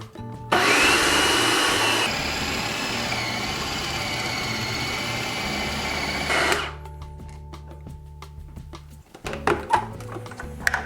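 A kitchen blender set to puree runs loud and close with a high whirring roar for several seconds, drops to a lower steady drone, then cuts off, followed by faint clatter.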